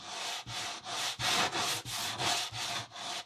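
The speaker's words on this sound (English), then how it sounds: "when we're sanding this radius right here" Rhythmic strokes of sandpaper rubbing a wooden RC plane wing edge radius, about nine even back-and-forth swipes close by, soft and scratchy with brief pauses between each pass.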